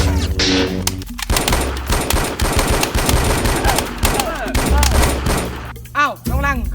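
Rapid bursts of machine-gun-style gunfire sound effects in a Thai comedy sketch, dense and loud, with shouting voices breaking in near the end.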